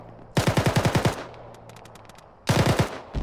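GP grenade launcher fire in the military video game Arma, heard as two close, loud bursts of rapid repeated shots with a quieter pause between them and no talk.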